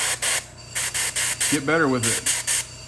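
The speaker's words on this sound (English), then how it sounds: "I've had the airbrush for the while" An airbrush spraying miniature paint lets out short, sharp hissing bursts in a quick regular rhythm, close and clear, while someone briefly talks in the middle of the bursts.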